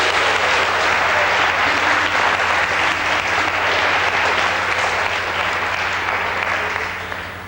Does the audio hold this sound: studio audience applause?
yes